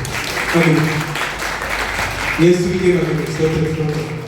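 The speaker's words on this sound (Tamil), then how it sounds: "உண்மையிலே அதாவது கைதட்டும்." A church congregation at Zion AOG church in Marayur, Kerala, applauds with a continuous spread of clapping that sits beneath a voice speaking over it.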